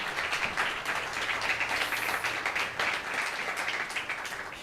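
A church congregation applauds during a sermon, with steady, dense clapping sustained throughout at a moderate level and no voices over it.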